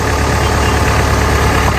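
Tractor with a four-wheel-drive, CRDI turbocharged diesel engine running: a loud, steady, close-up engine drone with a low throb, continuous and free of talk.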